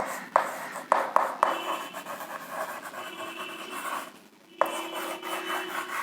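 Marker or chalk writing on a board during a biology lecture: several quick tapping strokes, then sustained scratchy rubbing strokes, close and fairly quiet, with a short pause before writing resumes.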